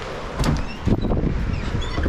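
Door of a 2015-2023 S550 Mustang with carbon fiber interior being opened: a couple of close mechanical clunks and latch thumps in quick succession, fairly loud with no voices.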